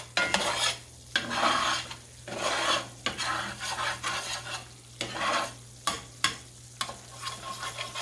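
Flour roux cooks in a hot pan, a soft sizzle broken by repeated scraping stirs that come in uneven strokes, close and fairly quiet.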